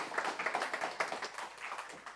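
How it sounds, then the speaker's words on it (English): Audience applause at the end of a talk, a steady patter of many hands clapping close by, fairly loud throughout with no voices. "Can we just get one last round of applause for Pete?"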